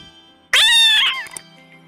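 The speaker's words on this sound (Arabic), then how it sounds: "Cat." A cat gives one loud, close meow of about half a second, rising and then falling, heard alone in a quiet setting.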